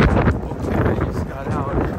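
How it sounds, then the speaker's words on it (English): Strong wind buffets a microphone outdoors in Houston, a steady loud roaring rumble that fills the whole two seconds, with muffled voices blended into it. "But it's super windy outside"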